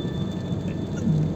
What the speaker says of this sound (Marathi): पाऊस एकदम कमी झालाय, बारीक बारीक आहे आता.